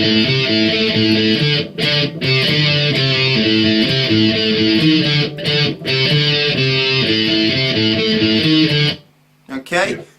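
Electric guitar playing an intro riff, a dense, continuous chugging pattern with brief gaps, stopping abruptly near the end before a short stray noise.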